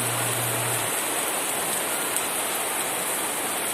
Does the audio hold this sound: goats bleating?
no